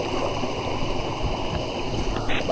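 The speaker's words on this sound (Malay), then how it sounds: "Sekarang kita kena cross sungai ni dulu." River water rushes in a steady, loud wash as hikers wade across a jungle river on foot on the way up a Terengganu mountain, with faint splashes over the flow.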